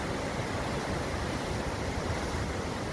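Torrent of a flood-swollen river in Himachal rushing with great force, a loud, steady broadband roar of churning water that stays constant and close throughout, with no voices.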